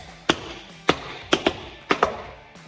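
Sharp taps on a hard floor come in a loose rhythm, six or so crisp strikes, some in quick pairs, close and fairly quiet.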